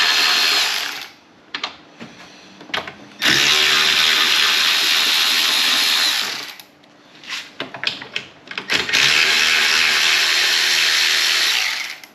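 A ratchet wrench with a 10mm socket works loose hardware on an EZGO TXT golf cart, giving two long stretches of steady, loud rapid clicking broken by shorter bursts and brief pauses.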